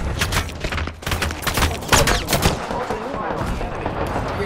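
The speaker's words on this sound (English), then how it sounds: "I am taking fire, friends." Gunfire rattles through a video game battle in rapid, dense bursts of shots that continue throughout, loud and close, with a voice speaking over part of it.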